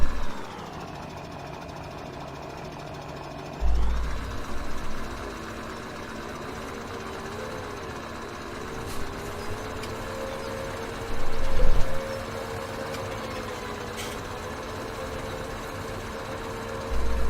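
A tractor engine idles in Farming Simulator 17 as a steady, droning hum with a low rumble, shifting pitch slightly at times, with brief thumps breaking through and no voices.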